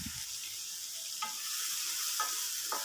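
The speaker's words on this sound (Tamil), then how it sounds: "வெங்காயம் கொஞ்சம் வதக்கி விட்டுக்குங்க." Finely chopped large onions sautéing in a pan for an egg gravy, a soft continuous fry hiss with a few brief stirring scrapes, fairly quiet and close.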